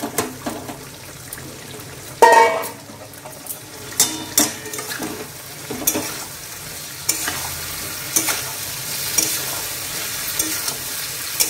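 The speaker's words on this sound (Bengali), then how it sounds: "এবার দিয়ে দেবো ভেজে রাখা ফুলকপি।" Pre-fried cauliflower tipped into a hot pan for a roast, landing with a sharp clatter, followed by a steady sizzle and repeated stirring knocks of a utensil against the pan.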